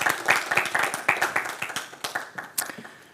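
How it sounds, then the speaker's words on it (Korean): Congregation clapping by hand during a church dedication service, a quick, steady rhythm of sharp claps at close range with no talk over it. "우리 박수로."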